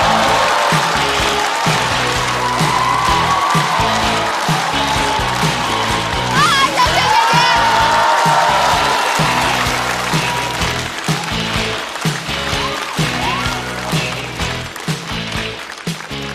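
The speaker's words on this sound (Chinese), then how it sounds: "掌声欢迎小雪。" Applause rises from a stand-up comedy show audience as a performer is welcomed, clapping mixed with music and a stage announcer's voice, lively and sustained for several seconds.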